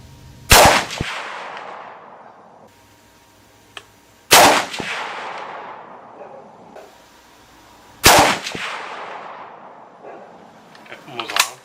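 A scoped Mosin rifle fires three loud, separate gunshots a few seconds apart, each a sharp crack with a long echoing tail outdoors, with a smaller click or knock between them.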